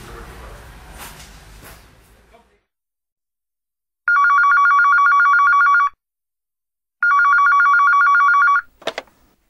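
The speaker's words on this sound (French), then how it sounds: "je suis sûr qu'elle a son portable et qu'elle sera ravie d'appeler Paul." A telephone rings in two loud, close bursts of electronic trilling, each lasting about two seconds with a pause between, after a stretch of faint background noise.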